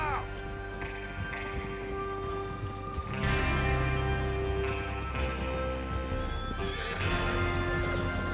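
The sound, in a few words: horses neighing and hooves in video game Red Dead Redemption 2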